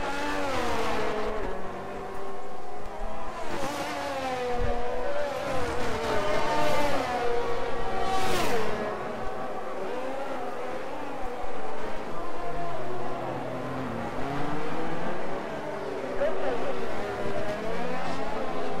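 A Ferrari race car engine in a racing video game revs hard and shifts through gears, rising and falling pitch sweeps repeating over time, with occasional tyre squeal and faint talk underneath.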